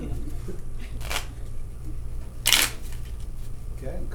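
A quick riffling burst of cards being shuffled, with a shorter flutter just before it, over a low background hum.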